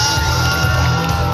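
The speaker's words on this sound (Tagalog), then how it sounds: "Hiyawan ang kanilang mga supporters mula sa iba't ibang bayan at lungsod" Supporters at the Limgas na Pangasinan 2023 coronation night at the Provincial Capital Ground roar and cheer as a loud, dense crowd, a constant wash of shouting.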